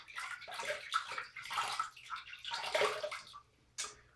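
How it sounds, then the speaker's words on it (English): Water splashes and sloshes continuously as hands scoop it onto a face before shaving, close and fairly loud, with brief pauses between handfuls. "let me wet my face"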